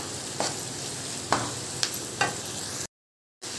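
Spice masala stir-fried on full heat for Bengali boal fish curry, steady loud sizzle with several sharp spatula scrapes against the pan, close, no voices, then a brief cut to silence before the sizzle resumes.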